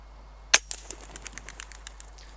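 A single sharp crack of an air rifle shot at a wood pigeon over stubble, close and loud, followed by faint fluttering and scattered soft thumps.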